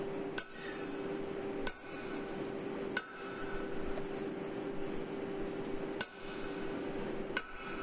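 A blacksmith hammers a workpiece, giving sharp metallic strikes at irregular intervals of one to three seconds over a steady workshop hum and background noise, moderately distant.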